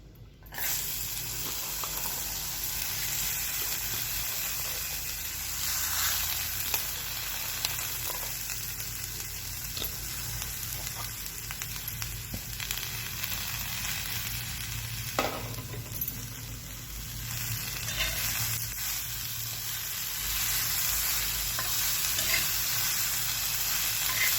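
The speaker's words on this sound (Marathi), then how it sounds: "सगळ्यात आधी आपण गवार भाजून घेणार आहोत तव्यात।" Beans roast in a hot pan with a steady, even sizzle throughout, broken now and then by faint stirring scrapes.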